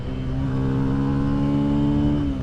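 A 2022 Benelli TNT 135 motorcycle engine hums at steady high revs, a loud, continuous drone with no voices.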